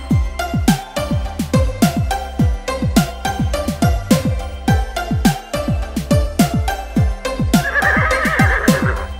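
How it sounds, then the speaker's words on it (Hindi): An Arabian horse whinnies and clops in a fast, steady rhythm of loud, close hoof-like beats. The beats carry on without pause throughout, with a brighter rushing burst near the end. "दौड़ा दौड़ा घोड़ा दौड़ा दुम उठा के दौड़ा"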